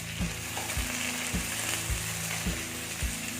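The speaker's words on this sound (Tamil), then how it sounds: "வெங்காயம் வதங்கும் போதே ஈரலை இதில் சேர்த்துருவோம்" Onions and chicken liver fry together in a pan, a continuous close sizzle punctuated by regular rhythmic scrapes of a spatula about every half second, with no speech.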